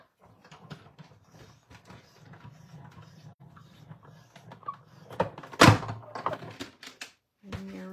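A die-cutting machine cranks an embossing folder on a platform with a 3D plate through its rollers, giving a low grinding rumble over several seconds with clicks and a sharp clunk near the end.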